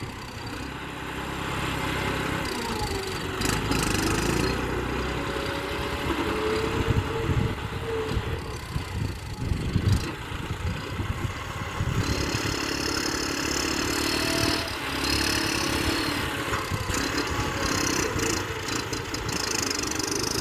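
A tractor engine runs steadily as it pushes and tramples piles of soil across a large field plot, a loud continuous mid-pitched rumble with shifting load and occasional clatter throughout.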